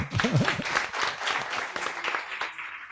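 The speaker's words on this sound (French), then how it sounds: "Est-ce qu'on peut l'applaudir encore?" Audience applause on a television talk-show set, a burst of close clapping mixed with brief voices at the start, then tapering off toward the end.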